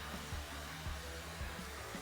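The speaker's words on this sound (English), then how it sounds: "now on my blow dryer, I'm gonna set my heat to medium and my airflow to high right now" Steady, full whoosh of a blow dryer set to medium heat and high airflow drying hair, running continuously and close, with no talking.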